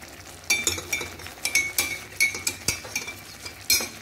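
Cornstarch being stirred into a sweet and sour sauce for fried catfish, a spoon clinking repeatedly against the pan in an uneven rhythm over a faint bubbling background.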